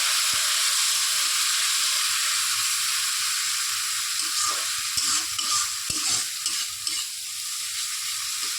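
Hot water poured into spice paste frying in a pan for a Bengali dish, giving a loud, steady hissing sizzle throughout with occasional stirring scrapes and bubbling bursts.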